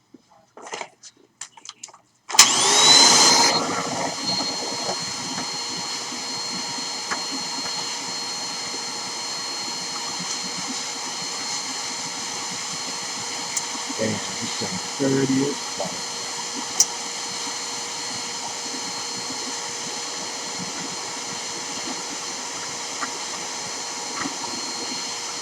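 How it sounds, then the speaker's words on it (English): A vacuum cleaner drones steadily while sucking dust out of a game console opened with its motherboard removed, a loud continuous whine that starts abruptly and runs throughout, with brief knocks and a few spoken words. "Now, I wanna vacuum all this shit out."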